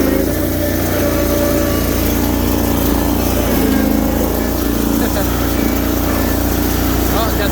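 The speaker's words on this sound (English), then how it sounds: "Yeah, Bobby, it seems like she spins them easy now." A Sears 6HP diesel loader fitted with dual wheels runs steadily close by with a constant low engine drone, the wheels spinning under it throughout.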